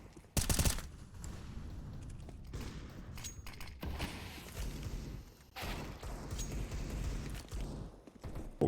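Pistol shots ring out during a competitive Counter-Strike match, with scattered sharp reports and small clusters of quick shots spread over several seconds amid in-game footsteps and thumps; no one speaks.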